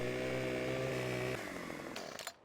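Chainsaw engine in Farming Simulator 2015 runs at a steady high-revving drone, then drops in pitch and sputters down before cutting off near the end.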